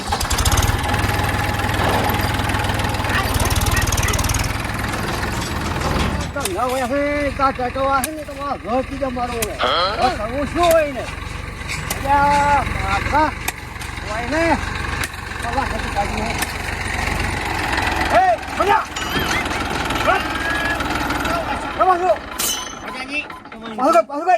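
A tractor engine idles and chugs on a roadside in rural Gujarat, a steady low rumble with rattling knocks throughout, while several people argue loudly over it in the middle and later part.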